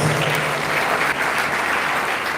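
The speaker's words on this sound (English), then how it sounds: "Please give him another round of applause." Dense applause from a large university Founders Day audience fills the space, loud and steady with no pauses.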